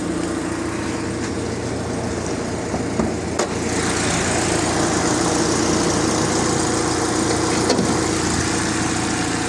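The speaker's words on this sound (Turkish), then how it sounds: "Motor güzel çalışıyor." A steady 1.6-litre Chevrolet Cruze engine idles close by, a continuous low rumble with an even, unbroken drone and a couple of faint clicks.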